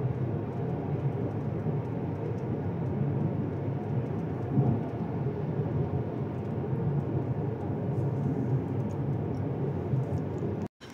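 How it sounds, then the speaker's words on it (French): Steady rain pours down in a dense, even hiss with a low rumble underneath, continuous and fairly loud, then cuts off abruptly at the end. "il pleut"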